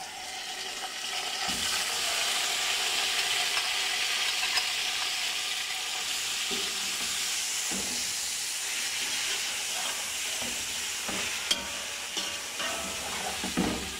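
Marinated chicken tikka fries in a hot pan for a smoked chicken tikka biryani, giving a loud continuous sizzling hiss throughout with occasional clinks and stirring knocks and no talk.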